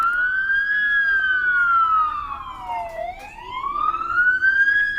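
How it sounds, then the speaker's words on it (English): Police and emergency vehicle sirens wail as units arrive, one loud, steady rising-and-falling tone sweeping down and back up, with a faint road rumble underneath. "here come a few more lights and sirens into the area"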